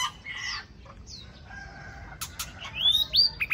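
Young magpie-robins at a bird market give short, high chirps and whistled calls, scattered and intermittent over a low background murmur, with sharper notes near the end.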